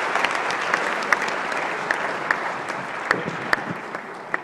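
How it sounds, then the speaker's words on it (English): An audience at the Africa Health Agenda International Conference applauds steadily, a dense wash of many hands clapping with a few sharper claps standing out, and no talking over it. "So please give her one round of applause for her achievement."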